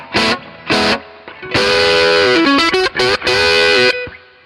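An electric guitar through an Origin Effects RevivalDRIVE overdrive pedal with its bright cap turned up plays loud, bright, distorted chords and riffs with a harsh, cutting edge, short stabs giving way to sustained notes.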